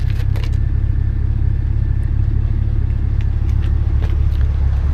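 Chevrolet Camaro SS with a 6.2-litre 405 hp V8 and a full exhaust line, a deep, steady low rumble at close range with faint clatter, not clearly revving up.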